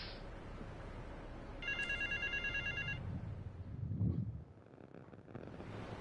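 A phone in the video game GTA Vice City rings with a short electronic trill lasting about a second, heard over steady windy outdoor ambience, followed by a low rumbling thud.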